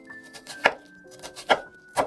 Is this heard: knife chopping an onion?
yes